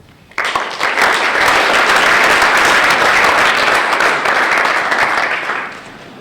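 Sustained applause from an audience breaks out suddenly, stays full and loud for several seconds, then tapers off at the end.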